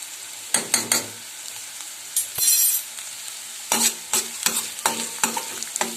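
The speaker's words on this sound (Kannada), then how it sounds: "ಬೆಳ್ಳುಳ್ಳಿಯನ್ನು ಇಲ್ಲಿ ಸೇರಿಸ್ತಾ ಇದ್ದೀನಿ" Garlic goes into half-cooked onions in a hot pan while a dill-leaf and lentil stir-fry is being made. Bursts of sizzle and scraping stirring strokes come and go nearby, with quiet frying between them and no talk.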